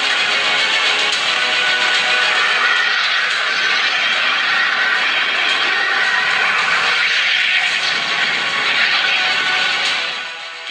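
Israeli F-35 fighter jets roaring: a loud, sustained broadband jet roar that holds steady for about ten seconds, then begins to fade at the end, with no voices.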